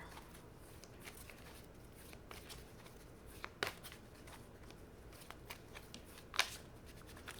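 Soft, intermittent riffling of tarot cards being shuffled in a quiet room, with a couple of sharper snaps standing out.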